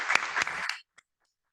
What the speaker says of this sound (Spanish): Pido un aplauso muy sentido para los dos expositores.